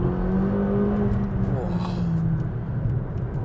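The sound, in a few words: McLaren turbocharged supercar engine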